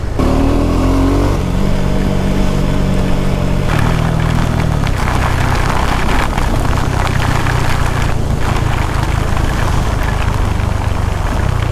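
A KTM Adventure 390 motorcycle being ridden on a long mountain road trip, its engine droning steadily with shifting pitch and heavy wind and road noise throughout, no talk.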